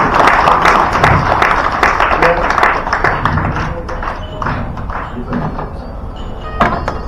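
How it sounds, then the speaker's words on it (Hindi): An audience claps at a felicitation ceremony honouring a Rajasthan animal husbandry department director, with scattered, uneven hand claps gradually thinning while voices carry on around them. "ये तालियां बजती रहनी चाहिए"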